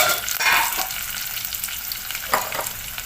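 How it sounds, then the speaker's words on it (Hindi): Cumin, onion, chopped green chillies and curry leaves crackling in hot oil as a tadka for red masoor dal, loud close sizzling with a few stirring scrapes and flare-ups, no voices. "थोड़ा सा ज़ीरा डालूँगी, प्याज डाल के ये हरी मिर्चें कट करके रखी थी वो डाल दिए। और ये कड़ी पत्ता।"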